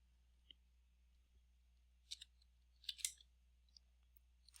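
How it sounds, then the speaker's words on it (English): A few sparse, quiet clicks of typing on a computer keyboard, tapped in short bursts with pauses in between, against a near-silent background. "I'm just going to start typing in that last name."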